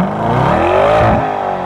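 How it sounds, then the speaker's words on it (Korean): Lamborghini Urus with a 4.0-litre V8 revving, a loud close exhaust note climbing and sustaining a smooth, buzzy drone before easing off, heard alone. "배기음 한번 틀어볼게요."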